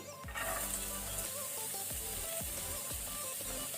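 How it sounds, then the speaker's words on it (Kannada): Onion added to garlic frying in a pan on low flame, giving a steady sizzle with soft rhythmic stirring taps. "ಇದೀಗ ಗಾರ್ಲಿಕ್ ಸ್ವಲ್ಪ ಕಲರ್ ಚೇಂಜ್ ಆಗುವಾಗ ನಾವು ಇದಕ್ಕೆ ಅನಿಯನ್ ಹಾಕೊಳ್ಳುವ, ಈರುಳ್ಳಿ"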